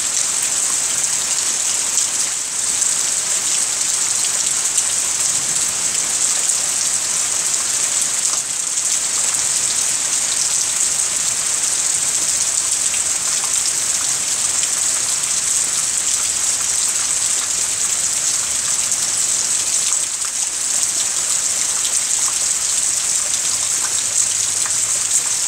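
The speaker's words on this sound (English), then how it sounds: "that's just raining hard now." Heavy rain falls hard and steadily after a storm, a loud, even wash of drops and splashing that continues without a break, with no voices.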